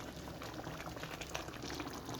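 Rice bubbles in an ordinary cooking pot, a steady close simmer of popping, gurgling water with no talk over it.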